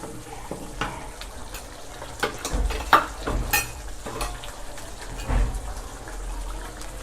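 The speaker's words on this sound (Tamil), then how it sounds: "புளிக்கரைசல் நல்லா கொதிக்கும் போது" A pot of tamarind extract with spices bubbles and simmers steadily for puliyodharai, with a few sharp clinks and scrapes of stirring now and then. No one speaks.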